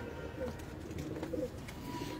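High-flyer pigeons kept by a breeder, with a couple of soft low coos rising briefly over faint background hum, fairly close but quiet.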